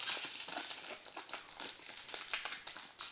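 Foil wrapper of a 2003 Manchester United Strike Force trading card pack crinkles and crumples continuously for a few seconds, close and fairly loud, with sharp bursts of crackling.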